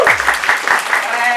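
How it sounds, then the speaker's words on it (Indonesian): Short burst of audience applause at an informal Indonesian talk-show gathering, lively clapping mixed with a voice speaking over it. "Mana tepuk tangannya, guys?"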